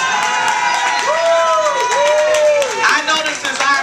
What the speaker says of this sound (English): I want to hear some applause from her.